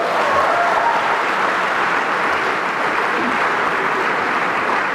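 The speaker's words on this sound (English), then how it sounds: "thunderous applause for the person who said" Loud, sustained applause fills a debate hall as an audience claps steadily throughout, a dense even roar of hands with faint crowd murmur beneath.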